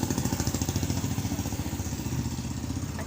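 A motorcycle engine runs close by with a steady, rapid pulsing throb that fades slightly as the bike moves on, heard alone with no talking.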